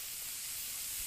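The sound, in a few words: mushrooms, garlic and ginger sautéing in butter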